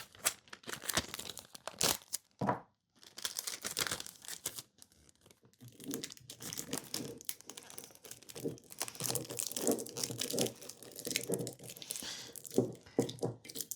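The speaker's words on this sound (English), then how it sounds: "we're going to take a little bit of tape and we're just going to tape up the top." Tape is pulled and pressed around a bottle top while packing a fragile item, giving quiet, close tearing and crinkling sounds in irregular bursts with brief pauses.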